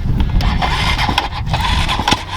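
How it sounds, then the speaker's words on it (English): A motorbike engine struggles and fails to start, with sputtering, uneven turning-over and cranking bursts, close and fairly loud, over a couple of seconds. "Bike won't start."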